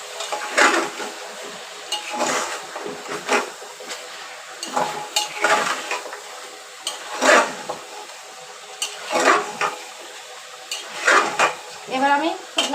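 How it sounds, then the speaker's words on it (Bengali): Chicken being stirred and fried in spice masala in a pan, bursts of scraping and sizzling in uneven strokes with pot clatter, close and moderately loud. "আমি আগে এই মশলাতে কষিয়ে নিয়ে দেখবো"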